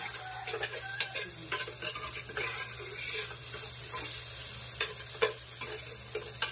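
Rice stir-fried in a hot pan: soft continuous sizzling with repeated scraping and stirring strokes of a utensil against the pan, close and fairly quiet, with no talk.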